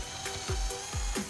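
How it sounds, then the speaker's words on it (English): Worx Switchdriver cordless drill boring into the end of a wooden chair slat, with short bursts of motor whine and a couple of brief low thumps, close and fairly quiet. "These slats that go on this chair are going to take a drill and a drive on each end."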